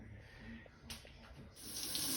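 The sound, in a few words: water running from a new shower head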